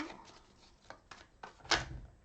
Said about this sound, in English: So I'm just going to shuffle.